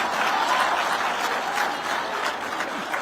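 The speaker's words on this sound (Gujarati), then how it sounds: "એના તાળીઓથી વધાવવો પડે" Applause from a crowd of students at a gathering with the Gujarat chief minister, steady dense clapping filling the room for a few seconds without speech.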